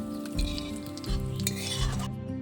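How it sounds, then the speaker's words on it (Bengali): Vegetables frying in a wok sizzle loudly up close while being stirred, with rhythmic scraping strokes every half second or so over a steady tonal backdrop and no talking. "সবজিগুলো ভালো করে ভেজে নিয়েছি"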